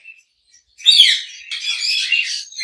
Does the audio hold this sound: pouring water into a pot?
no